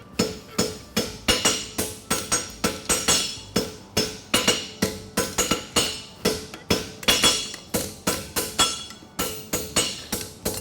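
A farrier hammers a fullered straight bar shoe on an anvil during a shoeing competition, steady ringing metal strikes repeating in quick irregular bursts, loud and close with no talk.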